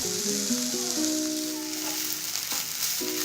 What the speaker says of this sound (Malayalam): ഈ ഉപ്പും കൂടി ഇട്ട് നല്ലതുപോലെ നമ്മളൊന്ന് ഇളക്കി